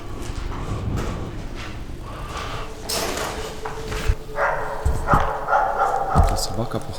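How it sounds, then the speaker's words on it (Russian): A dog barks repeatedly near abandoned buildings around Pripyat, sharp yelps cutting through steady outdoor noise and people talking over them. "Эта собака, походу, таки хочет нас найти."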